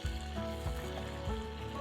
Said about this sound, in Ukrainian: Поки в казані смажиться